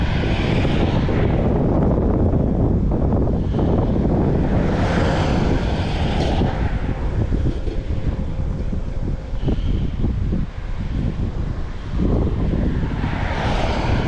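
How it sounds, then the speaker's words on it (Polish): Strong, cold wind outdoors roars and buffets loudly against the microphone without a break, surging and easing in heavy gusts. "Strasznie wiatr, jest zimno"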